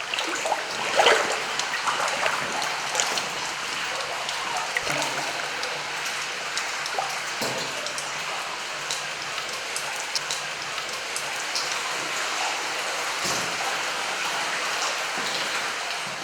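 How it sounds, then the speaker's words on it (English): Continuous dripping and trickling water echoing softly in a cave, drops running down porous rock, a steady patter with occasional louder splashes, no voices. "The drops of water trickle down the cracks and corners of the porous rock"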